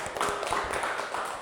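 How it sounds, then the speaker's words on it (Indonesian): Classmates clap for a student during a teaching practice session, a short burst of scattered hand claps with distinct individual slaps, moderately close and holding steady. "Baik, tepuk tangan untuk Mbak Ratna."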